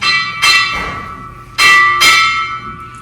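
A ceremonial bell at a ceremony in Liberia rings out in two pairs of clear metallic strikes, each ringing on and fading before the next, with no voices.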